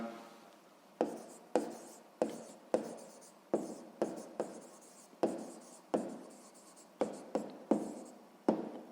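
Pen or pencil writing on paper during a sixth-grade maths exercise: a series of short scratchy strokes in irregular bursts, each starting sharply and trailing off, close and fairly quiet with no talk.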